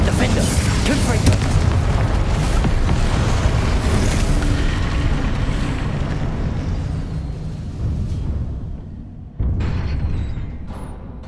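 Confringo blasting spells explode in Hogwarts Legacy gameplay: loud, booming blasts that roll on for several seconds, then a sharp new burst erupts near the end.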